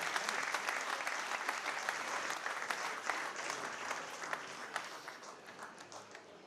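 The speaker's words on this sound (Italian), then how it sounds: "un grande applauso per mister Fabio Gallo" Sustained applause from an audience at a football awards gala honoring coach Fabio Gallo for Lanerossi Vicenza's promotion to Serie B, dense and steady throughout, slowly thinning toward the end.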